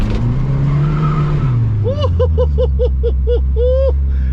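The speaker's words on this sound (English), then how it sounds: "She burned a tire, y'all." A 1972 Ford Pinto with a 4-speed burning a tire: an engine drone drops away into a rapid series of loud, close tire chirps and squeals, with a voice talking over the start.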